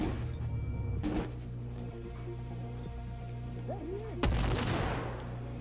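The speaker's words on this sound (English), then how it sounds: "I don't know who's shooting." Gunshots in the video game Sniper Ghost Warrior 3 ring out, one sharp report early and a louder crack near the end with a lingering tail, over a steady low hum.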